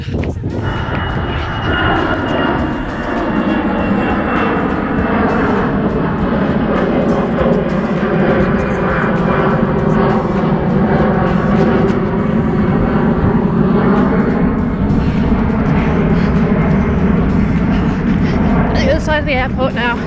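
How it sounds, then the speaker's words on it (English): An airplane flies near the airport, a sustained loud engine roar lasting throughout, while a person talks and outdoor noise from a marathon run around Disney continues beneath. "Finally seen a plane, yay!"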